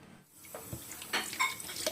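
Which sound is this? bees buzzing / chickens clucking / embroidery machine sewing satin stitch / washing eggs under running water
washing eggs under running water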